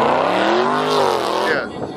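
Loud engine of a Dodge Hellcat revving steadily with rising and falling harmonic tones over about two seconds, close by, with voices mixed in.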